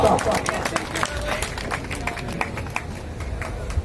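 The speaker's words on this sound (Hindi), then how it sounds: "जोरदार तालियों के साथ अभिनंदन" An audience applauds steadily throughout, a dense wash of many hands clapping at a moderate distance.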